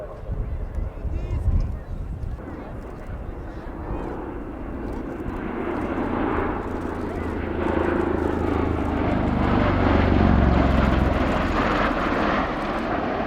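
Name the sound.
USAF CV-22 Osprey tiltrotor aircraft flying at airshow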